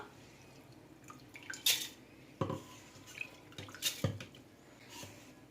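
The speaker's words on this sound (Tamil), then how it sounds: "இதை நம்ம வந்து தண்ணி வடிச்சிட்டு மிக்சி ஜாரில் ஆட் பண்ணிக்கலாம்" Soaked rice and lentils being drained of water and tipped into a mixer jar, with a few sharp clinks of the jar and utensils, brief splashes and drips against a quiet room.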